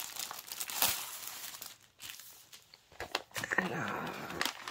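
Packaging of a VIP Cross Stitch kit torn and opened by hand, close crinkling and rustling of plastic and paper in uneven bursts, with a voice speaking now and then.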